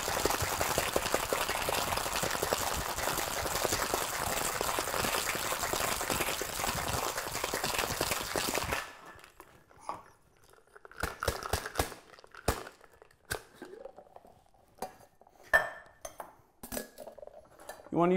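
Ice rattling hard and continuously inside a metal cocktail tin as a Hotel Nacional Special is shaken for about nine seconds, followed by sporadic clinks and knocks as the tin is opened and handled.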